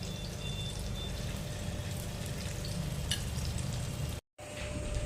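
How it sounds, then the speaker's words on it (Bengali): Chicken pakoras deep fry in hot oil with a dense, steady sizzle and bubbling throughout, close and moderately loud, cut by one brief dropout near the end. "এইভাবে আমরা সব পকোড়াগুলো ভেজে নেব।"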